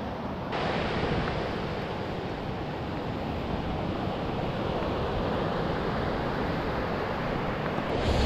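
Wind and waves wash continuously against a rocky shore on an overcast, breezy day, a steady broad roar with gusts buffeting the microphone and no voices.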